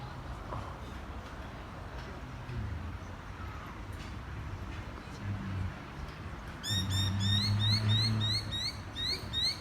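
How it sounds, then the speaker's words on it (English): Over a low rumbling outdoor background, birds break into rapid, excited chirping partway through, a busy flurry of high tweets close by. "And these birds must have nests in there because they're going crazy."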